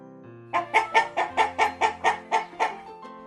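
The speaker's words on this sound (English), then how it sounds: "Chickens love to walk and peck around the farmyard." Chickens cluck in a farmyard, about ten quick, evenly spaced clucks close to the microphone, with no other sound around them.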